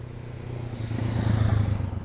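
A small scooter engine idling and revving slightly, a steady low drone with rattly texture that swells a little louder toward the end.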